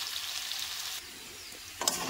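Freshly washed, still-damp potatoes fry in a pan with a bright, close sizzle that dips briefly and then flares up again in a short spattering burst near the end, with no talking.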